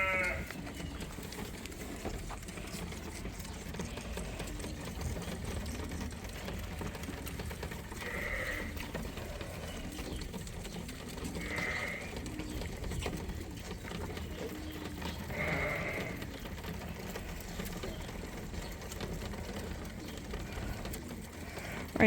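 Lambs bleat on a Canadian sheep farm during bottle feeding, with several nearby bleats rising over a constant low background hum across the stretch.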